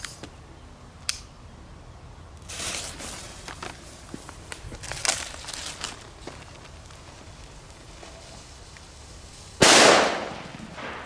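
Fireworks bought in Belgium being set off outdoors, with a sharp crack early, a spell of scattered crackling pops and rustles, then a loud burst near the end that echoes away.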